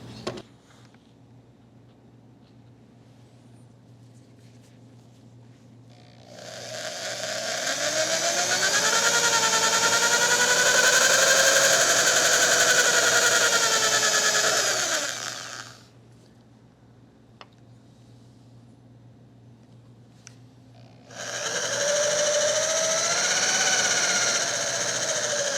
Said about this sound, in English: be drilling to the point where we reach that shoulder, and then we're going to stop.